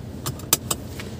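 Car seatbelt being fastened inside a car, a few quick close metallic clicks and rattles with one sharp latch snap in the middle, quiet overall over a low engine hum.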